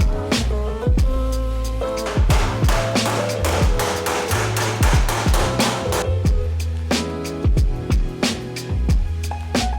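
A hammer folds and rounds over the clamped edges of an aluminum car body panel by hand, a loud, close series of ringing metallic blows in uneven bursts with no talk.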